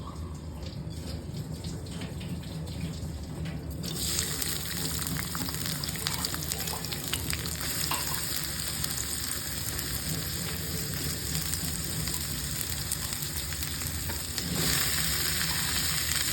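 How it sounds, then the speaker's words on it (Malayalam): Oil hisses and crackles in a pan on a stove while a Kerala mezhukkupuratti curry is started, a dense, continuous sizzle that swells louder partway through, with no voices. "അതിലേക്ക് ആവശ്യത്തിന് എണ്ണ ഒഴിച്ചു കൊടുക്കാം"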